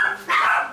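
A puppy gives a short, sharp bark or yip, close and fairly loud, a quick burst indoors in a house.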